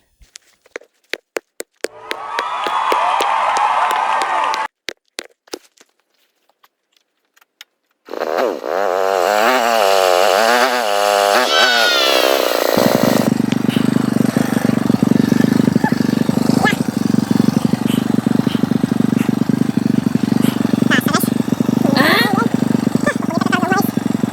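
A loaded motorcycle engine revs and runs loudly and steadily up close on a rough rural road to a cornfield, with a brief burst of voices and bumps before it settles into a continuous rumble.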